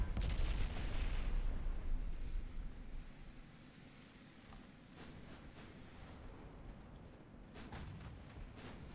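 Heavy battleship guns fire in the naval video game Ultimate Admiral: Dreadnoughts, a deep rumbling boom that fades into a low sustained roar, followed by a few fainter distant reports.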